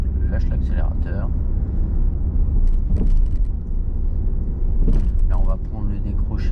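A car accelerates during a driving lesson, its engine hum rising and carrying steadily beneath an instructor's spoken directions and road noise.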